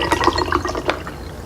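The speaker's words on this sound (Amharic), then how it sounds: "አሁን እኔ ይሄንን እዩ እዚህ ውስጥ ውሃ ጨምራለሁ ማለት ነው።" Water is poured into a container holding a cinnamon brew, a close splashing and gurgling fill with a few bright drips and bubbles, loud at first and tapering off, with no voices.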